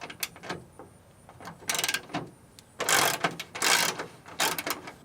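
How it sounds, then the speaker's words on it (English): Mechanical clicks and rattling bursts as a bolt is worked loose on a truck, close by, with intermittent ratcheting pulses and pauses between them. "step one, remove this bolt."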